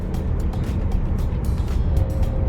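Inside a Volkswagen T-Roc with a 150-horsepower engine and seven-speed transmission, cruising at up to 100 km/h on the Seoul–Munsan expressway. A steady road and engine roar fills the cabin with faint passing swells.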